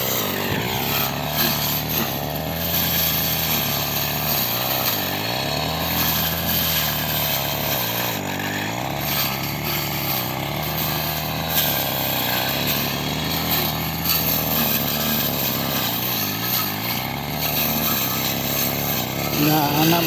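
A grass cutter engine drones loudly and continuously on a farm, its pitch wavering slightly with load throughout, while voices talk over it.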